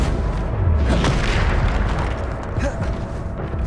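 A Bombarda blasting spell explodes in Hogwarts Legacy, a loud, deep booming blast followed by a sustained heavy rumble that fills the whole moment.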